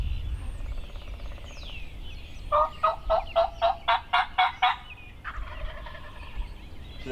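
A wild turkey lets out a loud, rapid rattling gobble, with a quieter gobble trailing after it, heard outdoors in Connecticut in spring over faint wind.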